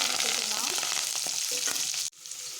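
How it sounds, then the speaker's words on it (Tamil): Bitter gourd kuzhambu ingredients frying in hot oil, a steady loud sizzle with a few stirring scrapes, cutting off suddenly near the end as the heat drops. "நல்லா பொரியட்டும். இப்போது நல்லா பொரிஞ்சிருச்சு."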